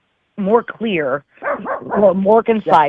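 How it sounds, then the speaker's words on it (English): A dog barks several times in the background of a home setting, the short barks mixed in with and partly masked by someone speaking steadily over them. "Sorry about my dog."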